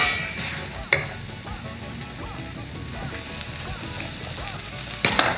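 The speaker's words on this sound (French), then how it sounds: "On mélange un petit coup les oignons." Onions sizzle and fry in a pan while being stirred for ajiaco, a steady crackling hiss with occasional clinks and scrapes of the utensil against the pan, close and without talking.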